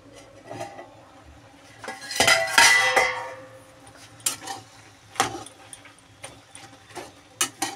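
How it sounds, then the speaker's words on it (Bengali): A metal lid goes onto a cooking pot of greens with shrimp: a brief clattering clang and scrape, followed by scattered light clicks and taps in an otherwise quiet kitchen. "এবার আমি ঢেকে দেবো এটা 5 মিনিটের জন্য"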